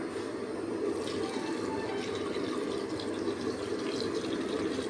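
Two pots of water are poured into rasam as it is cooked, a soft, continuous splashing and trickling fill heard quietly for several seconds without talk.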